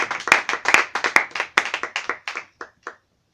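A church congregation applauding during a morning service, a short burst of rhythmic, fairly close hand claps that thins out and stops after a few seconds.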